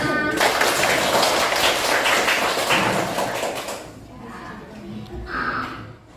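Students clapping hands together in a classroom, a dense burst of applause that fades after a few seconds, followed by quieter movement and a brief voice.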